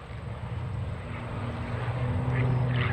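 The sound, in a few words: aerobatic airplane engine at an air show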